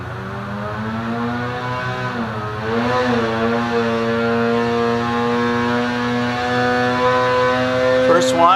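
A 2020 Polaris Axys 850 snowmobile engine with a Bikeman Stage 1 kit and Torque Link revs on a dyno, its steady harmonic drone climbing in pitch and holding high, loud and close.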